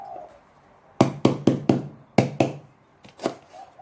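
Lemongrass is pounded on a chopping board: repeated heavy thumps, several quick ones in bursts with short pauses between, close and solid.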